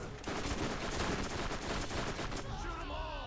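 Dense, loud automatic gunfire from a Borderlands shooter battle in The Secret Armory of General Knoxx, a steady stream of rapid shots across nearly the whole stretch that thins out near the end.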